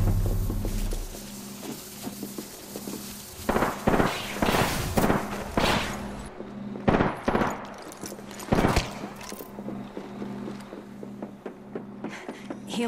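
Apex Legends combat on a rooftop, several sharp gunshots and short bursts cutting through a steady background rumble of game ambience, loud and fairly close, with no talk.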